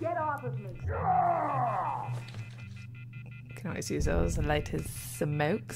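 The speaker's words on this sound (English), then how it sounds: "That's a phone." Phone-dialing tones sound from a telephone in the video game The Wolf Among Us, brief electronic beeps heard among game character dialogue and other talk.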